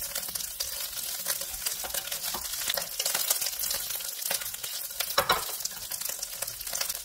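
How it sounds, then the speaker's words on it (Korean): Ham stir-fries with garlic in a hot pan, a dense, bright sizzle and crackle that runs throughout, punctuated by frequent spatula scrapes and tosses, close and steady with no voices. "햄이 노릇할 때까지 볶아주세요."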